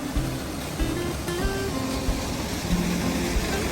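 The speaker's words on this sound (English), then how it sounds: "second waterfall coming up" Waterfall on Big Creek in the Ozark mountains, a steady broadband rush of falling water filling the clip at moderate level, with faint low rumbles and no talking.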